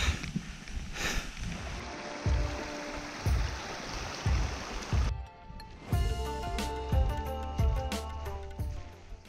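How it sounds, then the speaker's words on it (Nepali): Water from Meme Pokhari lake flows down a high mountain stream in Lamjung at about 4,200 metres, a continuous rushing and trickling close by with no voices. "यहाँदेखि माथि चाहिँ बगिरहेको पानी मेमपोखरीकै पानी हो"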